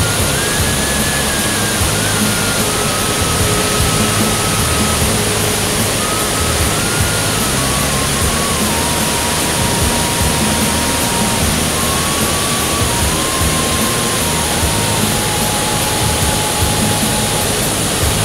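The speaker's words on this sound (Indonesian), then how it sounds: "derunya air itu sangat indah dan sangat enak didengar" A clear mountain river at Gunung Nago rushes steadily, a loud, unbroken roar of water that holds the same level from start to finish.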